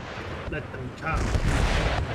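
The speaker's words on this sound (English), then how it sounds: "Artillery's going to do good work. I mean, all of the batteries are opening up." Artillery batteries firing in Empire: Total War, deep booming cannon reports that build into a dense continuous barrage toward the end, with a voice talking faintly early on.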